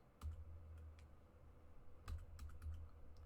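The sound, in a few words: computer keyboard typing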